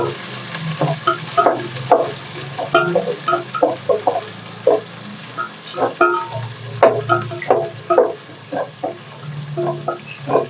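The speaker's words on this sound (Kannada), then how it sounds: "ಈರುಳ್ಳಿ ಹಾಕ್ತಾ ಇದ್ದೀನಿ ಈರುಳ್ಳಿ ಚೆನ್ನಾಗಿ ಫ್ರೈ ಆಗಲಿ" Chopped onions frying in a pan for a capsicum and brinjal curry, with a steady sizzle under repeated scraping, clattering stirs of a spoon against the pan, close and fairly loud throughout.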